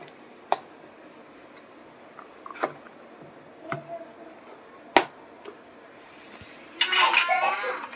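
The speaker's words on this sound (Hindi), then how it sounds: "चलिए इनके ढक्कन पैक दोनों को पैक कर देती हूँ।" Dishes and tiffin containers with lids being packed into a bag at home: scattered close clinks and taps of metal and plastic, then a louder rustling burst near the end, with a voice speaking faintly.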